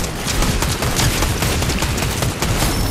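Dense, continuous rifle gunfire from the Fortnite video game, a loud, sustained barrage of rapid shots filling nearly three seconds with no talking.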